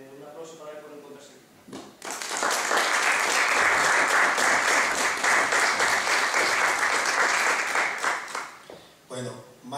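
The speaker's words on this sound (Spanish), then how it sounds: "Un aplauso para él por encontrarse." An audience applauds at a lecture with a burst of sustained clapping lasting about six seconds, loud and dense. A voice speaks before the clapping and again as it fades.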